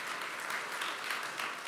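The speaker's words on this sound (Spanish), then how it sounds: "nosotros sabemos saludarlo con un aplauso cariñoso." A church congregation applauds warmly, a steady, even wash of clapping from many hands that holds throughout with no talk over it.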